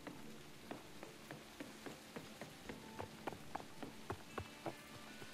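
Rain falls steadily and faintly, a soft continuous patter with scattered louder drops ticking on a surface.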